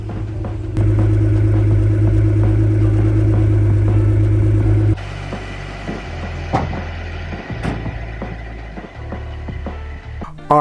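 A restored Honda NSX idles with a strong low hum, then a thud partway through leaves a quieter rumble, with scattered clicks and knocks around it as the car moves off.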